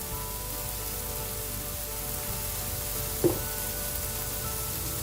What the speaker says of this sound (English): So we're going to cook our portobello down for just a few more minutes